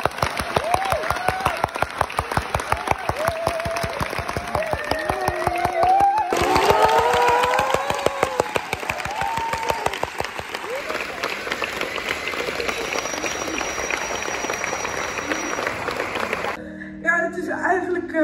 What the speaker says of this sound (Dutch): Geef hen een warm applaus